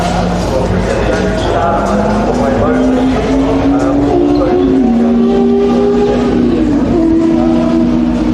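Porsche rally car racing at a tarmac rally sprint, its engine loud and close as it climbs and shifts through the gears, with crowd voices underneath.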